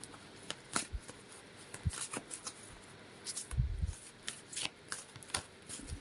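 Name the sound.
shuffling tarot cards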